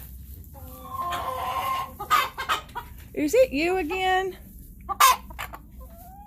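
Three hens in a coop cluck and squawk in short, close bursts, with a few sharp louder calls, while a person talks to them in between.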